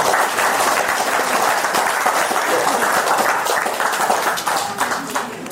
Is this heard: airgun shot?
no